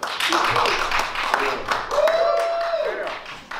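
Applause from a concert audience greeting a singer introduced onto the bandstand, a dense steady patter of clapping that carries through the whole stretch, with a sustained tone rising briefly partway through.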